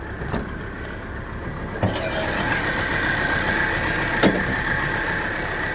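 The engine of a 2008 Mercedes Sprinter 515 aerial lift van idles with a steady low rumble, close by, broken by a couple of sharp clicks.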